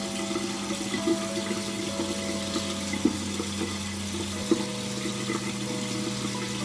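Running water from a tap as makeup is washed off, a steady rushing flow with a few soft splashes and knocks, close by and without talk.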